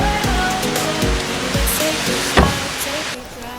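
Steady rain falls outside a guesthouse, a dense wash of noise with scattered drips and a few louder knocks, fairly loud and close throughout.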